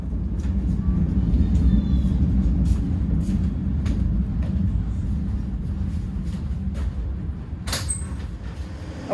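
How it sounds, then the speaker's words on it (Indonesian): Matarmaja economy train pulling into Blitar station, a loud continuous low rumble and rolling rattle of the cars with faint creaks and a brief high squeal near the end. "perjalanan kereta api Matarmaja udah tiba di stasiun besar Blitar"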